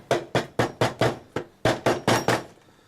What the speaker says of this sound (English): if you actually hammer these pieces in